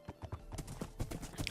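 Hooves of a Minecraft horse in DerpCraft clip-clopping in a quick, steady rhythm of close, hollow knocks throughout, with no one talking.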